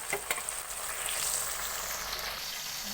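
Food sizzles steadily in a hot pan, a soft, even frying hiss with a few light stirring clicks near the start, fairly quiet and with no one speaking.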